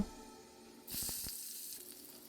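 Chopped onion tipped into hot oil with whole garam masala and cumin seeds, erupting into a loud, steady sizzle after a quiet start, with a few soft knocks as it lands.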